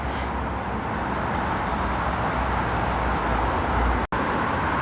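Traffic on a loud dual carriageway in town between Gillingham and Rochester: a constant close roar of passing cars and heavy vehicles, with one brief dropout near the end.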